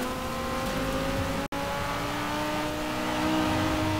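An Audi R8 engine revs hard in Forza Horizon 4, a loud sustained roar with rising and shifting tones, broken by a brief dropout near the middle before the engine note carries on steadily.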